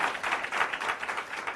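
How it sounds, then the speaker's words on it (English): Applause from a workshop audience for a presenter, a dense patter of many hands clapping together, steady and fairly soft, heard alone without talk. "Can we please give Ma'am Petros a round of applause again?"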